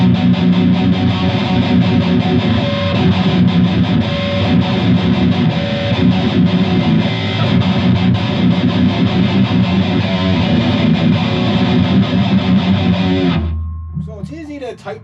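A loud, heavily distorted electric guitar is played palm-muted, giving dense, tight, aggressive chugging riffs. They run continuously for about thirteen seconds, then cut off abruptly into near quiet.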